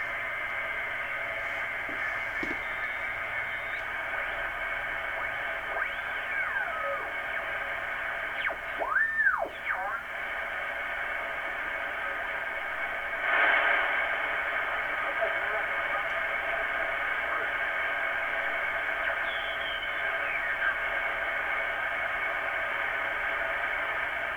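A Drake 2-C shortwave receiver hisses with steady static while tuning sweeps produce warbling whistles and brief bursts of faint, garbled voices through the noise.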